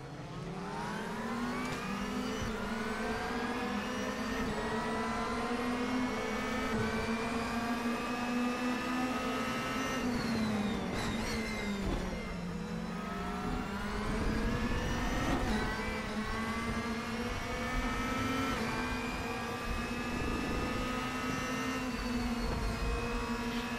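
DTM touring race cars from RaceRoom lap the Aragon circuit, a steady engine drone with rising and falling pitch as the cars accelerate and shift, continuous and loud with no talking.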